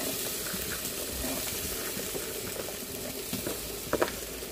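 Corn kernels sautéing in salted butter in a pan, a steady close sizzle and crackle with a couple of sharper pops near the end, no talking.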